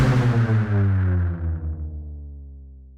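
Layered sound design of distorted noise from the FM8 synth stacked with other layers, a dense, heavy tone that pulses slightly and fades out over a few seconds, heard alone.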